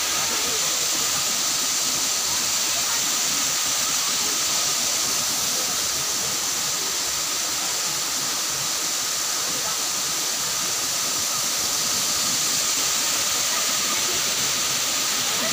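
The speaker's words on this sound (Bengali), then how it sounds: "ঝর্ণাটা দেখতে একবার ওয়াও।" A waterfall roars in a steady, loud, unbroken rush of hissing white noise from start to finish, with no pauses or changes.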